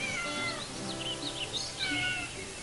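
A young stray kitten of about three or four months meows repeatedly, rising and falling plaintive cries that are fairly close but soft, with quiet outdoor ambience behind and nobody talking.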